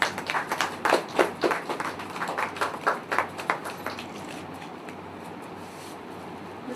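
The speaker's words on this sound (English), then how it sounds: "Round of applause." An audience at a poetry function gives a short round of applause. Irregular claps are loud at first, then fade into quiet room tone after about four seconds.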